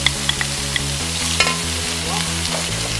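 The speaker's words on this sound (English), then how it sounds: "Luffa Gourd and stir fry it for about a minute." Luffa gourd and minced pork stir-fried in a wok with Xiang wine, giving a steady sizzle with scraping spatula strokes and a low hum underneath, close and continuous throughout.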